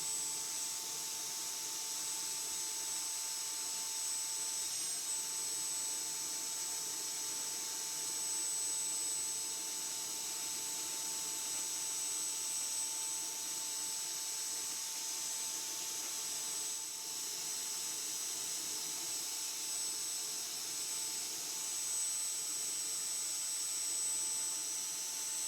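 A Dyson V10 cordless vacuum runs steadily, sucking up fine microsponge cleaning dust, its motor giving a loud, continuous high-pitched whine and airy hiss with a sharp tonal squeal throughout, close up and with no voices.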